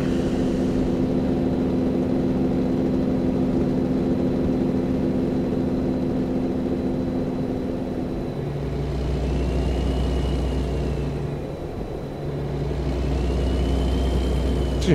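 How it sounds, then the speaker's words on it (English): Heavy truck in American Truck Simulator with engine brake engaged, a loud low droning rumble that steadies then deepens into a throbbing growl, with rain-soaked road noise underneath. "Turn the old engine brake on and let that do some of the work."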